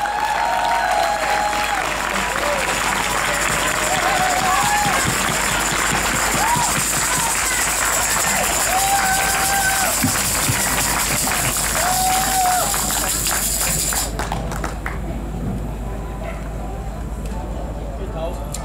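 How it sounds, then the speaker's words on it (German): Concert audience applauding and cheering on a stage in Cologne, a steady dense wash of clapping and crowd noise with whistles and shouts, loud and sustained before thinning toward the end. "Bitte einen Applaus"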